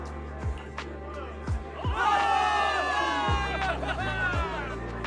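A crowd of soldiers in a video game cheers and shouts together in a big swell celebrating victory, with heavy thuds and stomps punctuating the noise.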